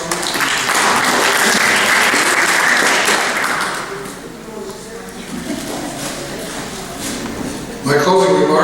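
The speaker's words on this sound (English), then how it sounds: "Let's give Frank a round of applause." Audience applause and clapping at a 2012 White Shield candidates' forum as a candidate is introduced, loud and sustained for about four seconds, then thinning into scattered claps under talking.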